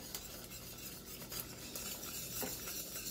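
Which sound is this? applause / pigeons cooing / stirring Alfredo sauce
stirring Alfredo sauce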